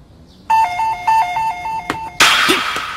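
A two-tone electronic doorbell chimes repeatedly in a quick pattern, then cuts off into a burst of noisy scuffling.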